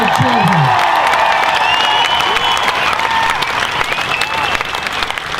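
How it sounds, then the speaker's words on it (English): A crowd at a protest rally in Melbourne cheers and applauds loudly, with whoops and voices rising over steady clapping that carries on throughout. "Give them a big cheer"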